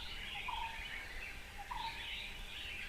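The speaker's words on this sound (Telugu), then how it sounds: "పక్షులు సౌండ్ చేస్తున్నాయి." Birds chirping in a pink forest in India, two brief calls about a second apart, faint and distant over a steady background hiss.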